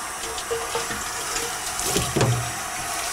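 Water sloshing and pouring inside a stainless beer keg being rinsed during keg cleaning, a steady wet splashing with a brief louder gush near the end, close by with no talk.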